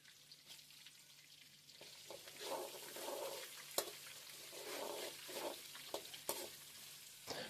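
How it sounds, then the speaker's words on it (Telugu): Sliced onions, two medium ones cut thin, sizzle and fry in a pan for tomato bath, a steady crackling hiss with swells of stirring and a few sharp clicks of a spoon against the pan, with no voices. "onions light golden colour వచ్చిందాక fry చేసేసుకున్నాము"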